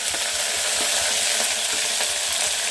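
Onions browning for dosakaya dalcha give a loud, constant sizzle in the pan, broken by light scrapes and taps as a spoon stirs them.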